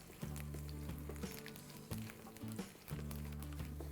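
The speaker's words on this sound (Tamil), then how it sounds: "அதே ஆயிலில் 10-15 பல்லு பூண்டு போடுங்க" Garlic cloves, ten to fifteen of them, sizzle steadily in the same hot oil used to roast chillies, a continuous frying hiss, fairly quiet and close, with no talking.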